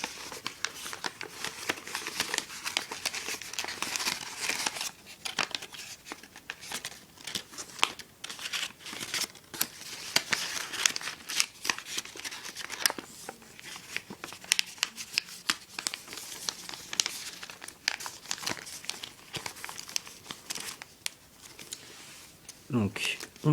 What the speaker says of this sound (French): Et ensuite, on déplie et on enfonce le pli à l'intérieur.